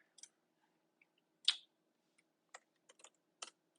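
Sparse keystrokes on a computer keyboard while designing foam board RC planes, a few separate quiet clicks spaced irregularly with one sharper tap, in a quiet room.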